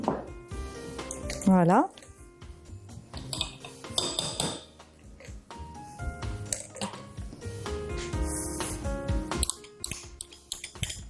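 Meatballs being stirred through a sauce in a pot for an Algerian dish, with scraping, clinking utensil contact and soft wet squelches under a man's speech throughout.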